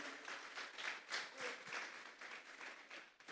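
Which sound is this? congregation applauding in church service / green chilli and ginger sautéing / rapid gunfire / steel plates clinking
congregation applauding in church service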